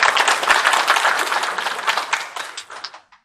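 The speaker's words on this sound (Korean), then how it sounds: "다시 한번 남종식 전 도의원님께 박수 한번 부탁드리겠습니다" An audience at a public hearing on the Cheongsong apple distribution corporation claps together, a dense burst of applause that starts full and gradually thins out to scattered claps.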